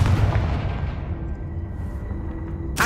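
A Confringo fire blast spell explodes in Hogwarts Legacy, a loud deep booming blast rumbling across the whole clip with a sharp burst near the end.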